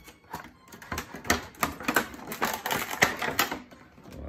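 Unboxing a Bandai Ichibancho Cell figure from Dragon Ball Z: a dense run of close, crackling plastic and cardboard rustles and snaps as the package is opened, with no talk.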